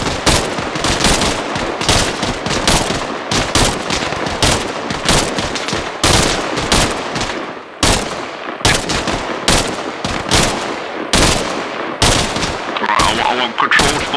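Dense, continuous automatic gunfire and rifle bursts from the military shooter game ARMA Reforger, loud and close with barely a pause across the whole stretch.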